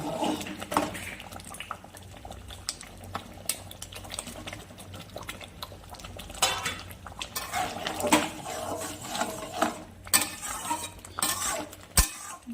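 Prawns going into spinach boiling in a pot: scattered clinks of a utensil against the pot and soft stirring over a steady bubbling simmer, close and fairly quiet, with no talking.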